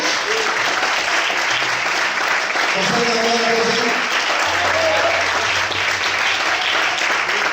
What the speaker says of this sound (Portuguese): Será que você pode aplaudir ao Senhor por isso?